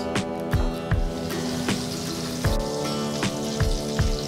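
Butter cubes melt in about four spoons of hot oil on a grill pan, giving a steady close sizzle with scattered pops and crackles; a low tonal hum runs underneath.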